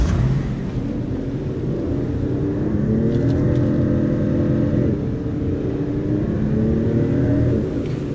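The Regalia, a car in the video game Final Fantasy XV, drives with a steady, loud engine drone and low rumble throughout, rising and easing in pitch as it accelerates and cruises, with no voices over it.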